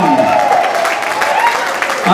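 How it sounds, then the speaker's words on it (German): Crowd applause for the CFB Soest shooting club at the Kreis Soest sports gala, a continuous mass of clapping from a large indoor audience with an announcer's voice sliding over it. "Applaus für den CFB Soest"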